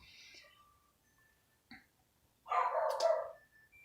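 Dog barking in a short burst near the end, loud and close, after a quiet stretch with a few faint chirps and a brief knock.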